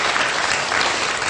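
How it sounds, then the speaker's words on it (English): An audience claps in a short, dense burst of applause that stays steady for its whole length. "clap."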